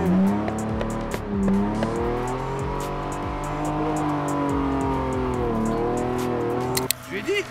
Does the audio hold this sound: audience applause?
no